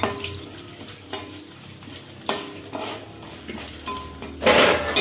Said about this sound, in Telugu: కొంచెం ఫ్రై కావాలండి మిర్చి.